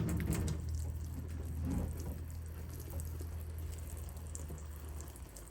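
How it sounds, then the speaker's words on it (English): Water trickles and splashes onto tomato and pepper seedlings in an indoor seed tray, a soft steady pour at close range with no talking. "Now we're gonna water them."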